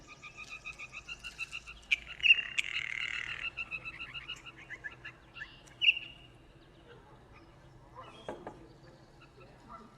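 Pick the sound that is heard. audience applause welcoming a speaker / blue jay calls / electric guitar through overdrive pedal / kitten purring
blue jay calls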